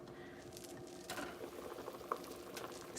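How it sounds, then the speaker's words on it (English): Smoked turkey boils in a pot on the stove, with steady, fairly quiet bubbling and patter throughout and one small pop near the end. "smoked turkey coming to a boil"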